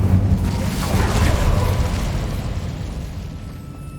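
An Incendio fire spell is cast in Hogwarts Legacy: a loud, burst-like fiery whoosh with a booming low rumble that slowly fades over several seconds.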